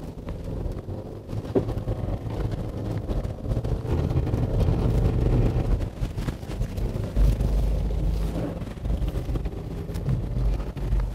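A Subaru Forester climbs a sandy off-road slope, its engine a steady, loud low rumble under heavy wind buffeting on the microphone, with no talking.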